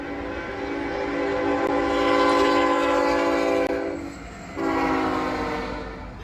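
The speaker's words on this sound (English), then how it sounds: "also a train horn that is around 100 decibels" A train rumbles past while its horn, around 100 decibels, blares in long sustained blasts, briefly breaking off and then sounding again, loud and close.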